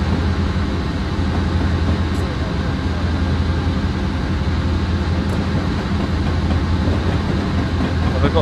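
A BNSF ES44DC diesel locomotive on Stevens Pass in Train Simulator 2016 drones with a steady low engine rumble, continuous and fairly loud, while people talk over it.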